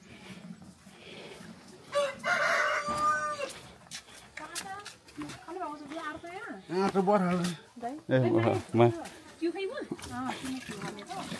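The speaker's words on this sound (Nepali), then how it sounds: "कुखुरा होइन कुखुरा" Village chickens crowing and clucking close by, a drawn-out crow followed by bursts of clucks and squawks in uneven runs, mixed with people talking nearby.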